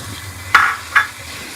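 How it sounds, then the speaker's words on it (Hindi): Crushed garlic frying in oil in a pot: a low steady sizzle underneath two short, sharp stirring scrapes, close up and with no voices. "1-2 मिनट हम लहसुन को इस ऑयल के अंदर हम फ्राई करेंगे।"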